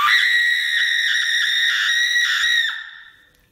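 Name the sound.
person screaming as a challenge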